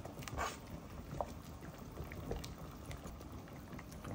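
Beef shank simmering with onion and garlic in a pot for kare-kare, a faint, steady bubbling boil with a few soft pours and clinks.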